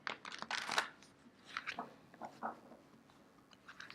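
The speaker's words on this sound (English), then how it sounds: "As I'm shuffling" Soft riffling and shuffling of tarot cards in quick bursts, with short pauses between rounds of shuffling, close and fairly quiet.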